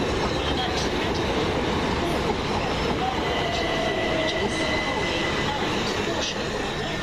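A Southern Class 377 electric train pulls out of East Croydon station, a loud, close, continuous rumble with rail squeal and faint clicking of wheels, and a voice heard faintly over it.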